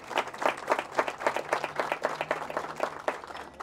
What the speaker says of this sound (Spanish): Yo quisiera un aplauso para usted, doña Manola.